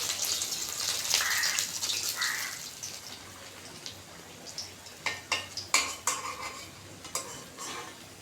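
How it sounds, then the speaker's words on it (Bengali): Pointed gourd chops and coriander-lentil chops frying in oil, a soft hiss that fades, then a run of sharp clicks and clacks as pieces are lifted out with a utensil against the pan. "চপ একইভাবে তুলে নিচ্ছি সবগুলো চপ ভেজে নিব"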